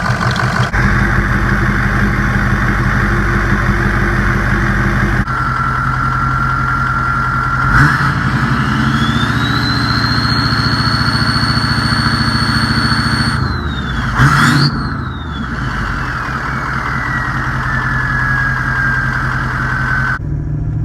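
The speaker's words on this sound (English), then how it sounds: "It's definitely idling a lot smoother than what it was before." A 2003 6.0L diesel truck engine idles steadily and loudly after injector replacement, with a belt chirp and a brief rising-then-falling whine over the low, even rumble.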